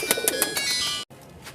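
Red-eyed Kamagar high-flying pigeons give a run of rhythmic, throaty coos, each pulse close and clear, before the sound cuts off abruptly and a quieter coo resumes.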